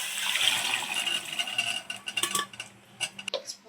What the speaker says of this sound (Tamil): இப்போ நம்ம வேக வச்சோம் இல்லையா சுண்டல், அந்த தண்ணியோடு நம்ம இதில் போட்டுடலாம்.